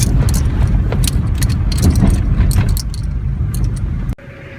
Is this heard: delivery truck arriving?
yes